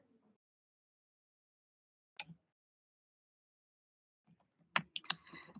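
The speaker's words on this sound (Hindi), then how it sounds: "तो मैं यहाँ पे अपने prompt टाइप करूंगी" Brief keyboard typing at a computer while entering a prompt: a single short keystroke burst, then a quicker cluster of clicks after a pause, alone and close in a quiet room.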